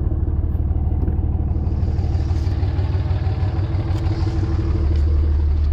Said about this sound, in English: It's still idling, dude.